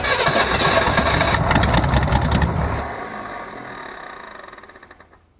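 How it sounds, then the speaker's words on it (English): A 1964 Ford Falcon engine with a rebuilt carburetor and new fuel lines cranks loudly and catches, running rough for a few seconds before settling into a quieter idle that fades out. "Let's crank her over and see what we got."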